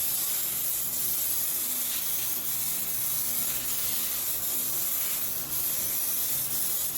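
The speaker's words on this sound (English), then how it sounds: "Spray sponge glue." A steady hiss of sponge glue sprayed from an aerosol can runs throughout, fairly soft and even, with slight pulses in intensity.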